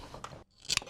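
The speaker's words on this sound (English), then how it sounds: "Cut our hose." A hose is snipped with cutters while fitting an oil bypass filter on a 3.0L Duramax, two short sharp crunching cuts close to the microphone with a brief gap between them.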